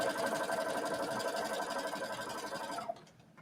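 A sewing machine whirs steadily in a fast mechanical stitching rhythm, sewing a half-inch seam allowance, then stops abruptly near the end.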